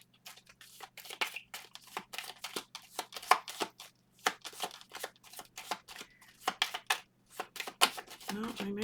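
Tarot cards being shuffled by hand, a quick series of crisp riffling snaps and flicks near and moderately loud, with brief gaps between bursts.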